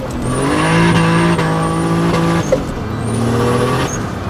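A turbocharged BMW E36 with an M50B25 straight-six engine pulls hard under acceleration, engine tone rising through the revs, a brief break and a pop mid-way, then it climbs again, loud and close.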